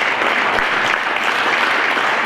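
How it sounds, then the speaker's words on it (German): Applause for newly elected council members at a city council's constituent meeting in Frankenau, a short, steady round of clapping from a modest room audience, with no talk over it. "Das ist ein Applaus wert, denke ich mal, für die Gewählten."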